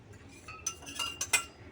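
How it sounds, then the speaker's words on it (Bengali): A spoon stirs dal in a pot after green chilli and ginger are added, making a few light metallic clinks and scrapes that are close and quiet, with no talking. "এই যে লঙ্কা দিয়ে দিলাম আদা সেটাও দিয়ে দিলাম এবার আমি নাড়বো এটাকে সুন্দর করে"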